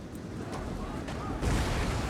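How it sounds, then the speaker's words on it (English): Mortar shells land among troops during a medieval siege battle in Total War Medieval Kingdoms, a dull rumbling boom swelling under a continuous din of battle noise. "Oh, brutal hit of mortars there"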